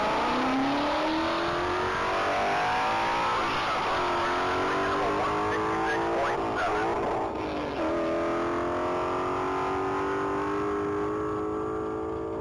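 A Ford Mustang GT at a standing-mile top speed race, its engine roaring loud and continuous as it accelerates hard through rising gears, with distinct shift dips along the run.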